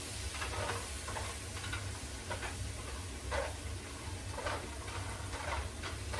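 A very large onion stirred and frying in butter in a pot, a steady sizzle with soft scrapes and taps from the stirring utensil at a moderate, even level.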